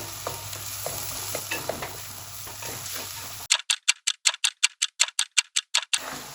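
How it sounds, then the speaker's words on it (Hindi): Tomato masala fries in a pan for an aloo sabzi, a steady close sizzle with faint scraping for the first half, then a quick run of about a dozen sharp, evenly spaced ticking clicks over near silence. "अब इसकी 2 मिनट भुनाई करेंगे कि ये टमाटर बिल्कुल बीच में घुल जाएं।"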